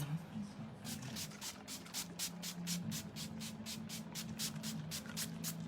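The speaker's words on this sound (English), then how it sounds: "We are going to spray our face." Repeated short hissing bursts of a makeup setting spray bottle misted onto a face, about a dozen quick pumps in a steady rhythm, close up over a low background hum.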